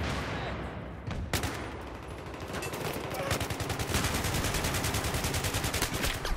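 Rapid automatic gunfire from a video game weapon, a dense burst of shots that settles into a fast, steady rattling stream, loud and close.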